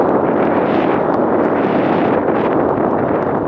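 Strong wind buffets the microphone while out performance sailing on a budget sailboat, a loud, continuous broadband roar with no break and no talking.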